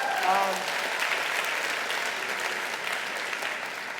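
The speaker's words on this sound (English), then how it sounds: "You can clap if you want." Sustained audience applause fills the space, a dense wash of clapping that peaks early and then holds steady before gently tapering.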